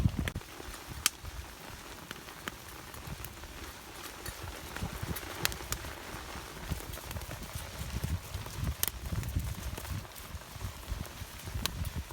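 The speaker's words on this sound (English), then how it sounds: "Now it's beginning to rain again" Steady heavy rain from a rainstorm patters and hisses across a surface, with scattered sharper drops and a low rumble underneath; no voices.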